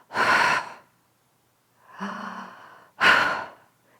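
A voice imitates the laboured breathing of a dying person: two loud, harsh breathy gasps separated by a softer voiced exhalation, each about half a second long, close and isolated with silent gaps between.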